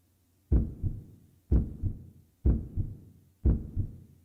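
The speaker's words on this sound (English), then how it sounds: "Heartbeat." Four evenly spaced heartbeats in the video game Blank Dream, each a deep, close double thump about a second apart, standing alone against silence.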